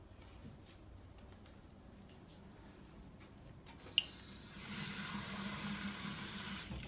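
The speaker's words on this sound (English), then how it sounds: "so let's get the tap water." Quiet room tone, then a click and a kitchen tap turned on, tap water running steadily and loudly into a sink for the last few seconds.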